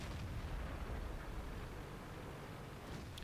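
A Centurion Mk7/1 tank gun fires in World of Tanks, a deep rumbling boom within a continuous low engine-and-battle roar, fairly quiet and without talk.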